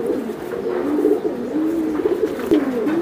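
Racer pigeon chicks coo in a steady, overlapping murmur, soft rolling calls that swell and dip continuously, close by with no voices.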